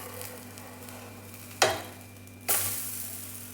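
A chickpea flour cheela fries in an oiled pan after being flipped, giving a soft, steady sizzle broken by two sharp bursts of crackling a second apart.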